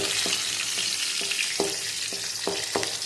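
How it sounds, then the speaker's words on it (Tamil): Two cloves of garlic and green chillies frying in a pan, a steady broadband sizzle with several sharp spatula scrapes and taps at irregular intervals, close and fairly loud, with no talking. "பூண்டு ஒரு 2 பல்லு, பச்சை மிளகாய் ஒரு 2 போட்டு நம்ம நல்லா வறுத்து எடுத்துக்கலாம்."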